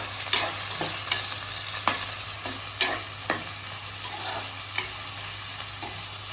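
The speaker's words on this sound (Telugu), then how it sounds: "ఇది ఆయిల్లో మనము చెక్క లవంగా వేసాం కదా, అది ఆయిల్లో ఫ్రై అవుతుంటేనే మంచి వాసన వస్తుంది." Cinnamon and cloves fry in hot oil with a continuous crackling sizzle. A spoon stirs with occasional sharp taps at irregular intervals, and no voices are present.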